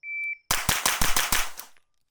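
Suppressed shots from a JP-5 rifle fitted with a HUXWRX Flow 9K Ti titanium suppressor, firing subsonic ammunition: a rapid string of about six sharp, muffled reports close by, preceded by a brief high electronic beep.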